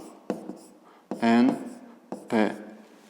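A marker squeaks across a board while the angle notation HNP is written for a fifth-grade geometry exercise, giving several short tonal strokes with quieter scratching between them.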